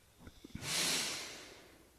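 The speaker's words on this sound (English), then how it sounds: "Breathing through the nose." A person draws a long, audible breath in through the nose during a breathwork session, a soft airy hiss that swells and fades after a few small sniffs, close and quiet with no talking.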